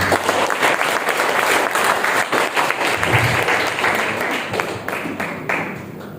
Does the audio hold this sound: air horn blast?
no